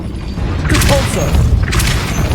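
Depulso spell casts in Hogwarts Legacy, two loud whooshing bursts about a second apart over a steady low rumble, close and forceful, with no talk.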